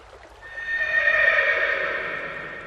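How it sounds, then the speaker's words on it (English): A horse neighs once, a clear whinny that rises and swells to full loudness around the middle, then fades slowly, heard alone and fairly close. "The horse Kantaka was so grieved to be parted from Prince Siddhartha"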